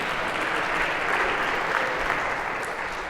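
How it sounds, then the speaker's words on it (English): Lecture audience applauding volunteers at a cybersecurity class, a steady dense clapping from a large crowd, sustained throughout without a break. "a round of applause for these 6 here volunteers."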